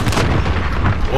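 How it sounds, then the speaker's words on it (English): A grenade goes off in Call of Duty: Modern Warfare (2019), a dense, loud booming blast that rumbles continuously with heavy low-end through the whole short moment. "Throwing grenade!"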